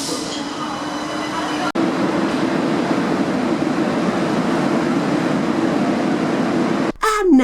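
A metro train rolls along the Barcelona suburban line at night, heard from inside as a steady loud rumble and rush of wheels on track. Two brief dips break the noise, one early on and one near the end.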